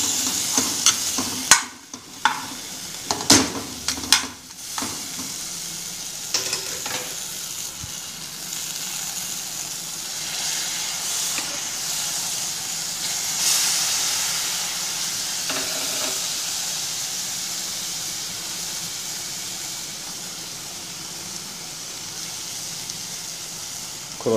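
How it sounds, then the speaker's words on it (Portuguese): Onion sizzles in a cooking pot for a beef pot roast, a steady frying hiss under clattering spoon strikes and scrapes as it is stirred, the clanks busiest at the start before the sizzle continues alone. "Vou mexer aqui para ir pegando um cheirinho,"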